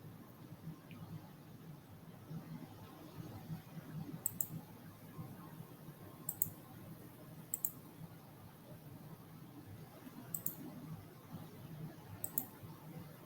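A computer mouse clicks while a teacher sets up an AI lesson tool, five faint, sharp clicks spaced a second or two apart over a steady low room hum.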